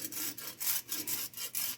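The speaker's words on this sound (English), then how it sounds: "just softly grate it on top" A black truffle is grated over pasta in a kitchen, producing quick rhythmic rasping strokes, about seven short scrapes in under two seconds, close and crisp with no talking.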